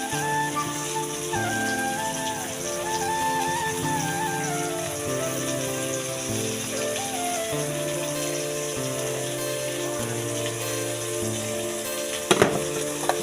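Tomatoes frying in a pan, a steady close sizzle running under a constant tonal background, with one brief clatter near the end.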